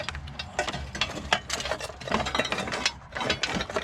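A hand ratchet clicks in quick bursts while loosening the single bolt on a 1995 Ford SHO battery tray, close and moderately quiet with brief pauses between strokes.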